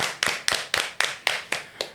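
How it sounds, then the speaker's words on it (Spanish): Hands clap in unison to welcome a guest on a program: eight crisp, evenly timed claps, close and fairly loud, with no talk over them. "Un aplauso, muchachos."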